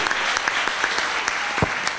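Dense applause from an audience at a film awards gala, a crisp and continuous patter of many hands clapping at close range with no pauses.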